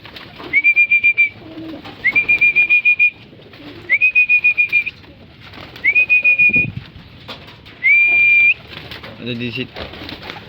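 Pigeons coo in five repeated bursts, each a short run of soft pulsing calls, fairly close, with faint rustling between them.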